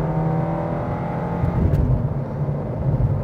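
A Suzuki XL7 accelerates on the road at around 70–80 km/h, its engine a steady, close droning hum with a slight swell midway and no talk over it.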